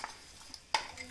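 Ground spice paste for a Kerala Peperomia pellucida thoran goes into a pan with chilli and curry leaves and is stirred; faint soft scraping, then a single sharp spoon-on-pan clink near the end.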